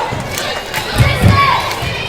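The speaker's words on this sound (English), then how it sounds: "It is a capacity crowd here tonight at Stonewall High School" Capacity crowd in the gym at a Stonewall High School basketball game, a loud, continuous roar of shouting and cheering with a couple of surging swells in the middle.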